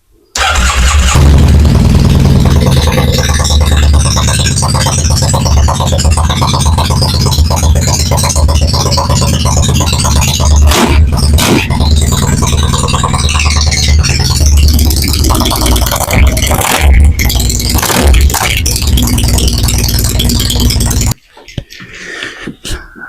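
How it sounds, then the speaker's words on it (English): A Triumph motorcycle, fitted with its old exhaust, runs for about twenty seconds, loud and close, with a raw, rattly exhaust note that cuts off abruptly near the end. "So this is what the bike used to sound like, which may or may not come across on the footage."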